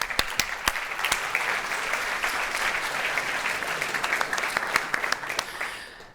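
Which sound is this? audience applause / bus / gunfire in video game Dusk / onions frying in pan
audience applause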